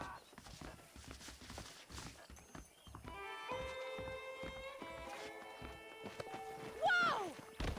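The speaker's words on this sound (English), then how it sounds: "The horses are saddled up over here." Saddled horses in the video game Red Dead Redemption, hooves clip-clopping in a steady, moderately close walking rhythm, with a horse whinny near the end and someone talking over part of it.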